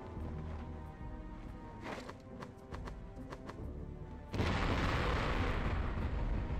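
Tank explosions in the combat game Conflict: Desert Storm, a loud sustained blast that bursts in abruptly partway through after rumbling battle noise and sharp reports.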